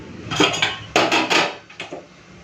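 Metal kadai being handled on a kitchen counter while cooking, a few sharp clanks and scrapes of cookware in quick succession, close and fairly loud with no talking.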